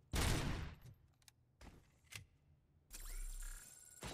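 Gunfire in the RoboCop: Rogue City video game comes as a loud burst followed by scattered single shots and a final sustained mechanical burst, with no talk.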